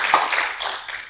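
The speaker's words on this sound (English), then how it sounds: "round of applause for" Brief scattered clapping from a small group at a training course session, a few hands striking in loose bursts, moderately faint and short.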